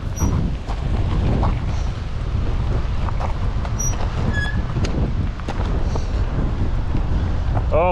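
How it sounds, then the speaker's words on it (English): Wind buffeting a rider on a motorcycle trip, a loud continuous low rumbling roar with gusty surges and engine drone underneath, heard close throughout with a few brief tonal chirps. "Oh man, there's the wind."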